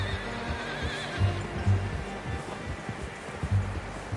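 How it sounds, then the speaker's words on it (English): A horse in a PS4 video game whinnies over a constant low rumbling background, with a few soft thuds, moderately loud and without talk. "How's that new horse?"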